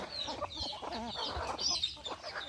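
Several hens cluck and chatter nearby in short, uneven bursts, with soft outdoor background noise.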